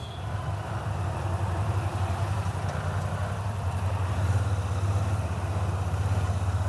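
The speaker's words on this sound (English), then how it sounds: "let me just open my visor and see how does this motorcycle sound. Sounds awesome." A Royal Enfield Interceptor 650 motorcycle engine idles steadily with a low, throbbing rumble, close and continuous, with faint road or wind noise around it.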